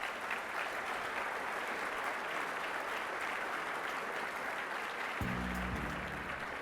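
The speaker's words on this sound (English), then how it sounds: "Let's give them both a round of applause." An audience at a fireside chat honoree event gives sustained, even applause that stays full throughout, as music begins to play under the clapping near the end.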